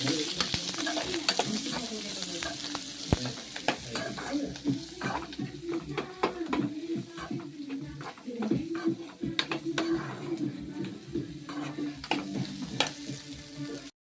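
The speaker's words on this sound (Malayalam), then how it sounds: "ഇത് നമുക്ക് എണ്ണയിലോട്ട് ഇട്ട് കൊടുക്കാം. നന്നായിട്ടൊന്ന് ഇളക്കി കൊടുക്കാം." Boiled jackfruit seeds, finely chopped, stirred in oil in a pan, with a steady sizzle and frequent scraping stir strokes throughout, close and fairly loud, no talking.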